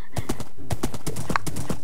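Horse hooves clip-clop in a Minecraft game, a brisk, loud, evenly spaced series of hoofbeats with a whinny partway through, heard alone without talk.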